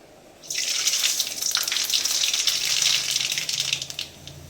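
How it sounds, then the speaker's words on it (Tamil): Mustard seeds spluttering in hot oil, a sudden bright crackling hiss that starts sharply, holds steady for a few seconds and then fades, close and fairly loud with no talk. "அதில் இப்போ கடுகு போட்டுக்கலாம்"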